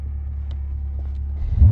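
A Dodge Charger SRT holds a deep, loud engine rumble at about 3,000 RPM in performance-control launch mode, then surges sharply in the final moments as it launches.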